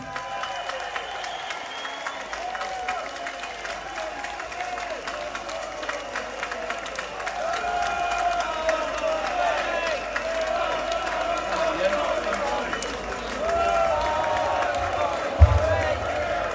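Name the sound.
crowd applause at a march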